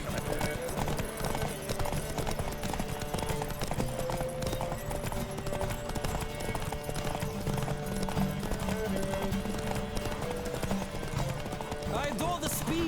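Horse galloping in The Witcher 3: Wild Hunt, its steady clip-clop hoofbeats running continuously over a dense, loud game soundtrack.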